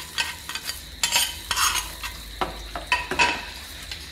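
Sesame and coconut being stirred into batter, heard as irregular wet scraping strokes and clinks of a spoon against the vessel, close and fairly soft, with no voices.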